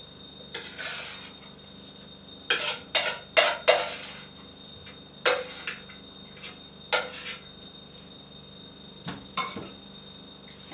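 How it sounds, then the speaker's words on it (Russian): Kutia with rice being stirred in a pot, with a spoon scraping and clinking against the sides in short irregular bursts separated by quiet pauses, close and fairly soft, with no voices. "Это все дело я перемешиваю."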